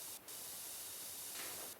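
A cleaner spray bottle misting onto a model castle wall: two short, bright hissing bursts, one near the start and one at the end, with a softer puff between, over a constant steady hiss.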